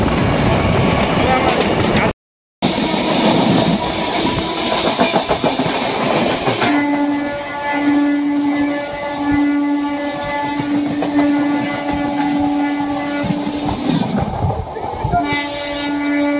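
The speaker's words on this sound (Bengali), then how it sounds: "সাঁতরাগাছি স্টেশন আস্তে আস্তে ট্রেন গেল" A local train pulls through Santragachi station, its wheels clattering in rhythm over the rails, then a long, loud horn sounds repeatedly, breaking off briefly and returning near the end.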